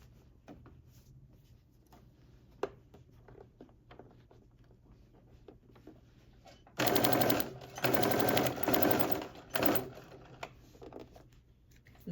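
A sewing machine stitches a sweatsuit pocket seam, first with scattered soft clicks and handling, then bursts into loud, rapid mechanical chattering in several short runs before stopping.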